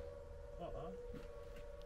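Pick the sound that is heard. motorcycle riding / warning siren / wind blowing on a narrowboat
warning siren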